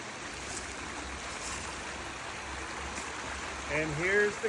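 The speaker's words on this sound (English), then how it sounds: "And here's the creek." Woodland creek after a recent flash flood, a faint steady rush of flowing water heard from nearby, with a voice speaking briefly near the end.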